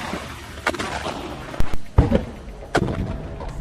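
Several sharp, booming blasts go off inside a building in Gaza in irregular succession, some close together, over a low rumbling background.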